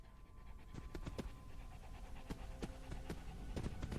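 Dog panting in the game Fallout London, a run of quick breathy puffs repeating irregularly over a steady low background hum, fairly close with no talk.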